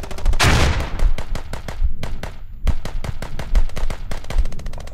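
Rapid gunfire from the Squad infantry video game, a dense stream of sharp cracking shots with one heavy close burst near the start, then steady repeated reports continuing throughout at high loudness.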